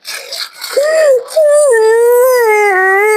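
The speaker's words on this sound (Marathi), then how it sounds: "ते निघचल कुत्रे" A dog lets out one long, wavering howl that rises and falls, held steadily for a couple of seconds after a brief noisy start.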